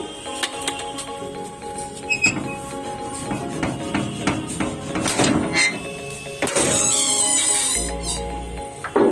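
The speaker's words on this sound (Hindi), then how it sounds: "कल बारिश हुई है ना, कल परसों, इसलिए इसकी आवाज ऐसी हो रही है दरवाजे की।" A wooden door swollen after rain creaks and scrapes in several irregular bursts, with knocks and a thud near the end, fairly close and loud with no talking.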